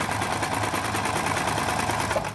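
A 24-year-old home sewing machine runs fast and steadily, with a rapid even needle clatter and motor hum, close and continuous with no voices.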